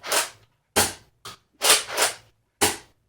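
Nerf First Order Stormtrooper blaster firing six sharp foam-dart shots in an uneven rhythm, each a crisp close snap with quick decay and silence between.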